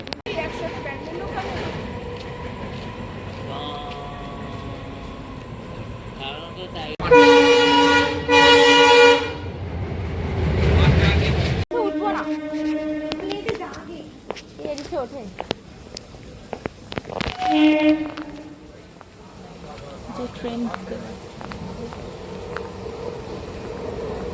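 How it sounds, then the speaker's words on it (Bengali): A Tarkeswar local passenger train sounds several loud, sustained horn blasts at a station platform, with shorter toots later, amid people talking and station bustle. "লাস্ট ট্রেনের আগের ট্রেন এটা তারকেশ্বর লোকাল"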